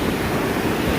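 Brief burst of big ocean waves washing up toward a beach cottage, a steady close roar of surf and wind with no voices.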